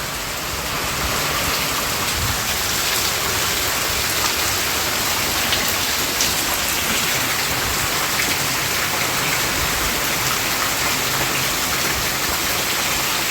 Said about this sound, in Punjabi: ਬਹੁਤ ਜ਼ਿਆਦਾ ਮੀਂਹ ਆ ਗਿਆ